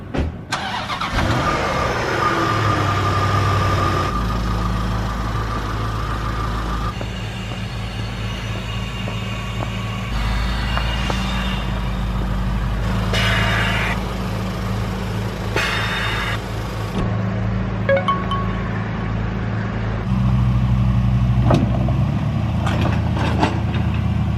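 Tow truck loading and towing a Range Rover L322, with a steady mid-pitched diesel engine idling and droning throughout, occasional mechanical clanks and shifts in tone, close and fairly loud, no talking.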